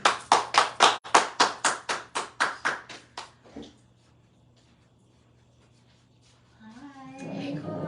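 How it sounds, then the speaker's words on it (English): About a dozen loud, close handclaps in a steady rhythm from a small group at a podcast recording, fading out after a few seconds, followed by silence and then a voice beginning to talk. "Give her a round of applause"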